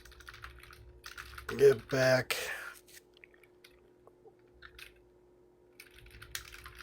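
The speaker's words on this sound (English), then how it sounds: "Should probably not be blindly typing anything." Soft, quiet clicks of typing on a computer keyboard come in scattered bursts. A short stretch of low, murmured speech interrupts them partway through.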